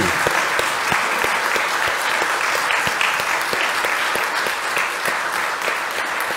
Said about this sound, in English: please stand up so that we can give you our love and a round of applause